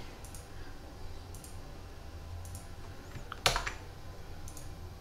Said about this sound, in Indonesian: kalau kita mau uh, mempersingkatnya bisa tekan Ctrl dan Enter seperti ini